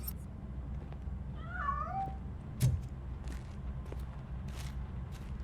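A cat meows in the video game RoboCop: Rogue City, two short rising-and-falling cries close together, over a low ambient hum with a few soft thumps and taps.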